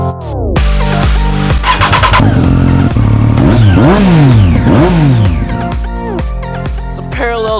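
A 2014 Triumph Bonneville with a 900cc parallel twin engine revving hard, loud and close, with rising and falling throttle blips and a sustained high rev in the middle before settling back toward idle.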